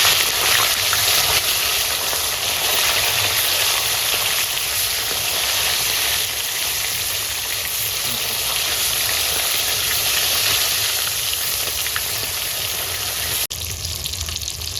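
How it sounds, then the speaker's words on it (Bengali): Bata fish fry lightly in hot oil at home before going into a masala curry, giving a loud, steady sizzle that runs unbroken from start to finish with no talking. "এখন আমরা মাছগুলো ভেজে নেবো একটু হালকা করে"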